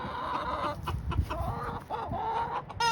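Backyard chickens cluck in a steady, overlapping run of short calls at close range, with no one talking.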